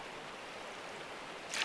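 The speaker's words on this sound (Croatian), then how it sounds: "Sipamo vodu." Water poured into a gold-panning sluice in the game Gold Rush: a steady, quiet broadband rush like a running stream, ending in a brief louder splash.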